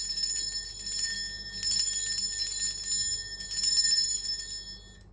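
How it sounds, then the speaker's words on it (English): A bell rung to cleanse a space gives bright, sustained ringing tones that swell twice and slowly fade, alone and fairly close. "Now I'm going to ring the bell that I have."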